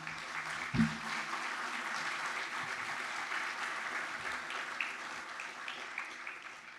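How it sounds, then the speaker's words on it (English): A round of applause at a donor memorial dedication ceremony, a crowd clapping steadily and evenly at moderate volume, with a single sharp knock near the start. "One more time, let's give a round of applause for Linda."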